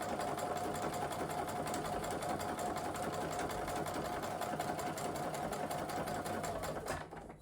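A sewing machine runs steadily at speed while stitching a seam in reverse, a fast even rattling hum that carries on unbroken before stopping at the end.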